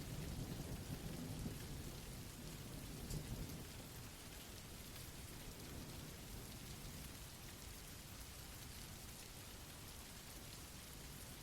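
Steady heavy rain pours down in a thunderstorm, with low rumbling thunder rolling beneath the constant hiss of falling drops, no voices.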